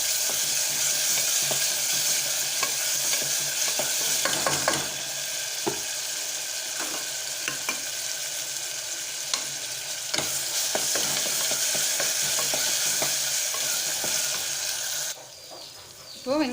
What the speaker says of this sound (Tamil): இப்போது வெங்காயம் தக்காளி நல்லா வதங்கிருச்சு